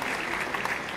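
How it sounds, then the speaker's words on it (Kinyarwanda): An audience at a Rwandan gospel concert applauds the Apostle with dense, steady clapping that fills the whole moment, no voices rising above it. "Reka dukomere amashyi menshi cyane Apostle"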